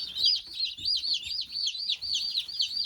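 Young Red Ranger or Freedom Ranger meat-bird chicks peep and cluck in a rapid, continuous series of shrill chirps, close by and fairly loud, with no speech.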